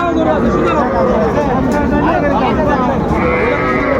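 Cattle low and call at a busy rural livestock market (hat) selling small bulls and heifer calves, several animal calls overlapping with crowd noise and nearby talk, loud and close throughout.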